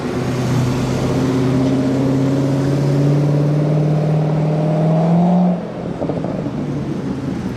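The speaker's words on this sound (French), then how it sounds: "Vous avez entendu là quelque chose accéléré? Ah, c'est la Corvette là-bas." A Chevrolet Corvette accelerating on a Monaco street, its engine note climbing steadily in pitch for several seconds before cutting off abruptly, loud and close, then fading to background traffic.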